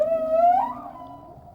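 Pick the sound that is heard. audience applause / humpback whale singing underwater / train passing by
humpback whale singing underwater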